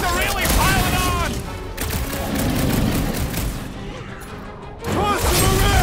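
Video game gunfire aimed at a big robot, with dense rapid volleys, blasts and crashes coming thick and loud, briefly thinning out before another heavy burst, while speech appears to run underneath.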